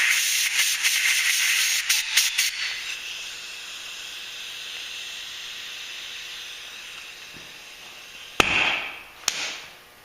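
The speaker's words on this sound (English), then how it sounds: "plug the bottom with your finger and blow air in through the top" Air is blown by mouth through a Tecumseh H60 carburetor from an Ariens snowblower, making a loud, airy hiss with sputtering pulses for a few seconds. A quieter lull follows, then two short sharp puffs near the end.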